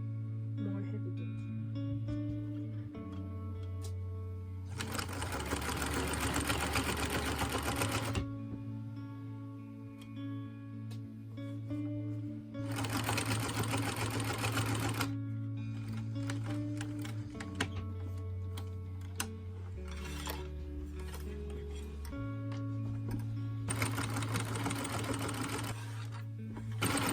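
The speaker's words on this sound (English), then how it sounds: "just top stitched it down to make it a little more heavy duty." A sewing machine top stitches a French seam in three long, loud bursts of rapid, steady whirring stitching, with short pauses in between that carry low hum and faint handling.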